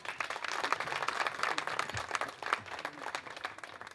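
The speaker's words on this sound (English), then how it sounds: "I think we can give him a big round of applause." An audience gives a sustained round of applause at a comedy event, dense clapping holding steady and fairly loud throughout with no talk over it.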